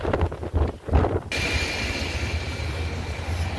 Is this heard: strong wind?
yes